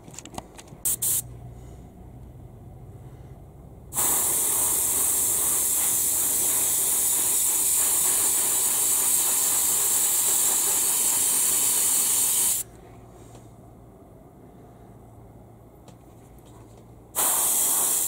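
Aerosol can sprays a coat of metal colour shift paint onto models in two long bursts, a steady loud hiss of about eight seconds followed by a shorter one of about a second, with quiet gaps in between.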